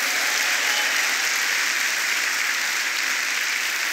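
Church congregation applauding loudly and steadily, a dense continuous wave of clapping that fills the room from start to finish with no voices standing out.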